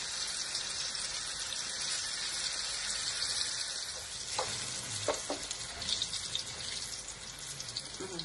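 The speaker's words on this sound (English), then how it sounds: "We're going to add our chips, allow them to fry until golden brown" Breadfruit chips fry in very hot oil, giving a loud, continuous bubbling hiss with a few clinks and splashy knocks partway through, as if the chips are dropped in or stirred.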